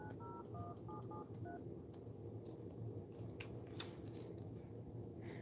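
Telephone keypad tones ring out in a quick series of short beeps over a steady background hum, followed by faint clicks and rustling, with no talking.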